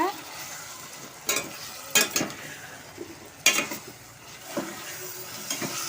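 Raw banana pieces and prawn curry stirred in a pan, soft sizzling under a few sharp scrapes and clinks of a spoon against the metal, spaced irregularly.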